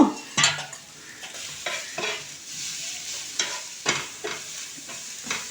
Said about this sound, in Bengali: এগুলো এবার আমি হালকা লাল করে ব্রাউন কালারের করে নেব